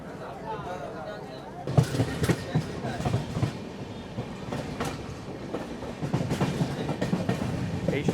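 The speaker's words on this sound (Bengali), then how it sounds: "এই সাইডাং এক্সপ্রেস ট্রেনটি" The Sairang Express, a Kolkata–Sairang passenger train just departed from Krishnanagar City Junction, rumbles steadily along the rails with rhythmic clattering wheel beats and louder jolts, heard from inside the coach under a voice speaking.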